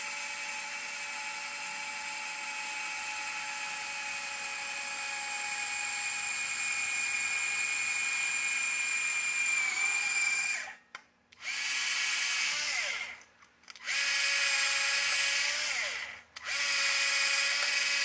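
A 3mm bit drills holes in a carbon tower, a high steady electric whine running for about ten seconds, then three short bursts with brief pauses between them as further holes are bored.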